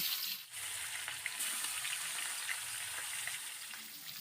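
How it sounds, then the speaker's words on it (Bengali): Fish heads fry in hot oil in a wok, a fairly quiet, steady sizzle with occasional faint pops, heard alone with no talking. "এবার কড়াইয়ের মধ্যে যে তেলটা রয়েছে এই তেলের মধ্যে দিয়ে দিচ্ছি মাছের মাথা।"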